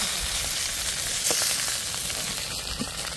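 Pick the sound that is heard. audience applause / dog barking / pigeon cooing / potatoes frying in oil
potatoes frying in oil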